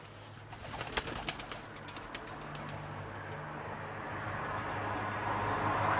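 Pigeons coo softly at a moderate distance, a few rhythmic burbling calls early on, then fade beneath a steady outdoor wash of background noise that grows slightly louder.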